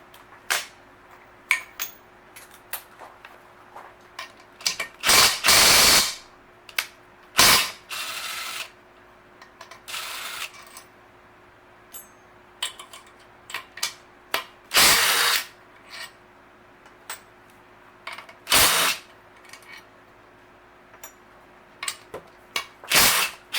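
Ratcheting wrench work loosening the cylinder head bolts on a Nissan 6hp outboard engine: bursts of clicking ratchet strokes and metallic clanks come in irregular clusters with quiet gaps, close and fairly loud, no talking.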